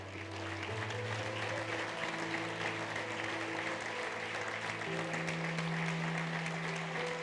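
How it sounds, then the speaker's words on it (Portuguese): Church congregation applauding, a steady wash of clapping throughout with sustained organ or keyboard chords playing underneath. "dê um aplauso ao Senhor bem forte."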